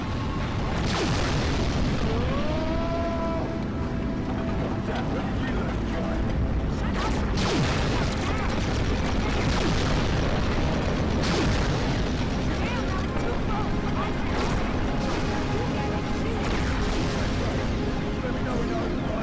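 Heavy weapons fire and explosions in the Carrier Command: Gaea Mission game, dense rumbling booms and blasts layered over continuous battle noise, with a brief whine and ongoing combat chaos.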